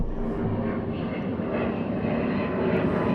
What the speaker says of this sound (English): So we'll just wait for this plane to come over.